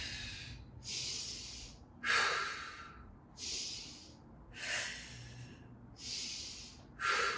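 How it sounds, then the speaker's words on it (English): Rhythmic heavy breathing during a Pilates core workout, with six or seven strong, hissing exhalations repeating about every 1.3 seconds, close and loud, with no talking. "I'm just breathing through this."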